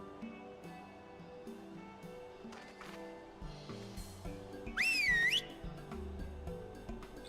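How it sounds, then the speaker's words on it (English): A finger whistle in the video game Final Fantasy XIV: one loud, sharp whistle sweeping up and down for about half a second, over layered game music and background sound. "I like how they're using whistles, but they do like a finger whistle noise"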